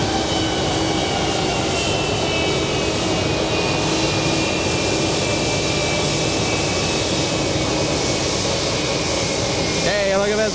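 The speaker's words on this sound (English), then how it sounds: "A220 down below, powering up." Airbus A220 jet engines roar loudly and steadily at JFK Airport, a broad rushing drone with a high whine on top, building as the aircraft powers up.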